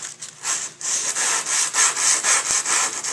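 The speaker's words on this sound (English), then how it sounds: "this sandpaper is pretty rough, so we're gonna smooth it down a little bit" Coarse sandpaper rubs by hand over a generator part from a tractor, in rhythmic back-and-forth strokes, close and fairly loud, each stroke a rasping swell.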